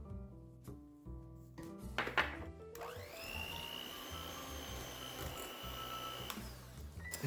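An electric mixer blends granulated sweetener into cream cheese for a low-carb no-bake cheesecake, starting with a few clicks and a rising whir, then settling into a steady motor drone, close and fairly quiet.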